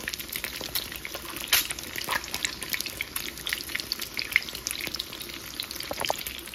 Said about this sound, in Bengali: ভয় লাগছে, ফুটছে তেল।